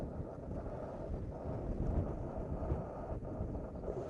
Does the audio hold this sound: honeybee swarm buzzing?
no